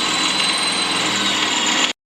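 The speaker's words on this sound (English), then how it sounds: "So now we have to drill and tap another one." A power drill whirs steadily and close for nearly two seconds while drilling and tapping a replacement bolt hole on a PT Cruiser's suspension, then cuts off abruptly into near silence.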